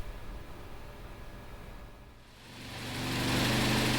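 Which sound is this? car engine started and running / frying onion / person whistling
car engine started and running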